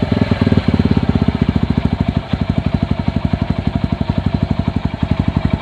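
Bajaj CT-100 motorcycle engine idling just after starting, a steady, fast, close single-cylinder putter with even rhythm and a brief dip partway through.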